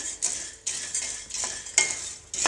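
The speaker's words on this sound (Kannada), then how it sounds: "ಪುಟಾಣಿನ ಒಂದು ಸ್ವಲ್ಪ ಬಿಸಿ ಮಾಡ್ಕೊಳ್ತೀನಿ" Roasted gram (puttani) being warmed and stirred in a pan for tambittu, with repeated scraping, stirring strokes and light sizzle at a close, moderate level, no voices.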